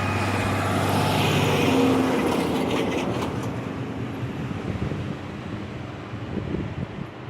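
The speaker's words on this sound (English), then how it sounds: "The roads became congested, forcing us to navigate through the traffic alongside sizable vehicles." Heavy road traffic rumbles past a cyclist on the Trans Canada Trail along the Huron Shores in Ontario, with a loud broad roar of large vehicles and wind noise that fades steadily to a lower continuous hum.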